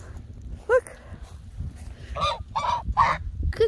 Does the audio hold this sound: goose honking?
yes